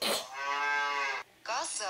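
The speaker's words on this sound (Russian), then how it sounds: "Бык." A bull in a tablet video game gives two loud, drawn-out moos with a short gap between them, clear and without any talking.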